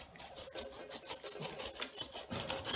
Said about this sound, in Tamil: இப்படி மேலேயும் கீழேயும் கட் பண்ணி வச்சுட்டு வச்சு வெட்டினோம்னா